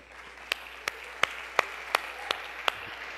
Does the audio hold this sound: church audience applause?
yes